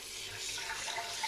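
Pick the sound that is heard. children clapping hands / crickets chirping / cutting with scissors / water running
water running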